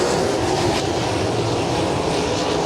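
Sprint cars race on a dirt oval at a USAC National Sprint Car event, their engines a loud, dense, continuous roar that stays steady and close throughout with no gaps.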